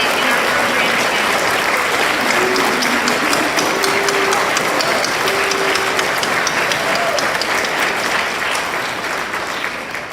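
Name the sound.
audience applause for veterans and guests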